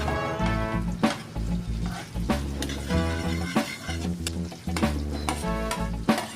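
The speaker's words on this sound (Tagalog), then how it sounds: "Gisain natin ang luya. Sunod natin ang sibuyas." Ginger, onion and red chili sauté in butter with a steady sizzle, repeated sharp clatters of stirring, and a strong low rhythmic hum throughout, with no talking.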